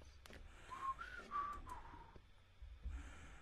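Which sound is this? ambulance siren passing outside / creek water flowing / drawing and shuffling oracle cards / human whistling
human whistling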